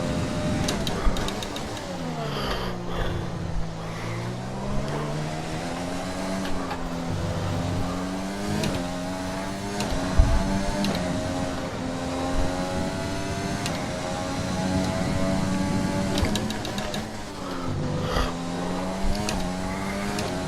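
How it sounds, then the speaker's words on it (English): Red Bull F1 car in F1 2020 racing game, a loud high-pitched engine whine that rises and falls through repeated upshifts and downshifts, revving hard throughout with a short thump midway. "we're going to drive the hell out of this Red Bull car"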